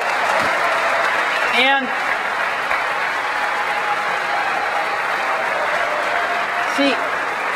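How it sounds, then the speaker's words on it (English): Sustained applause from a keynote audience at Macworld San Francisco 2001, a steady broad roar of clapping with a voice speaking briefly over it. "we very much appreciate the applause"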